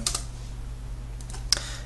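Computer keyboard keys clicked while entering an admin name and password in a WordPress install, a few sparse taps early and a short burst near the end over quiet background hum.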